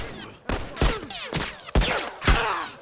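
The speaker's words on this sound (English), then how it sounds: "Who's shooting me in the back from the bank?" Bursts of gunfire ring out in a multiplayer shooter match fought around a town bank, about five sharp, loud shots with echoing tails spaced roughly half a second apart, with no talking.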